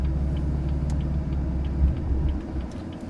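A manual BMW F82 M4 engine rumbles low and steady as the car eases away on a little clutch, a close, continuous drone with a faint swell partway through.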